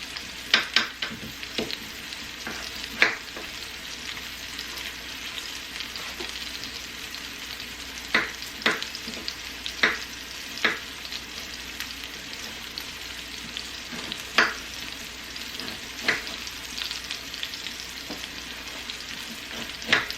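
Meat frying in a pan for gravy sizzles steadily throughout, close and moderately loud, with repeated sharp crackles and pops scattered over the continuous hiss and no talking.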